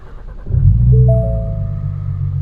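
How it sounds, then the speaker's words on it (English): A 2017 Ford Mustang V6 cranks and fires up close, then settles into a deep, steady idle rumble. "it doesn't sound bad for a 6-cylinder, but it's definitely not a V8"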